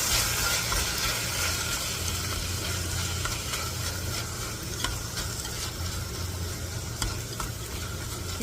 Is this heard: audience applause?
no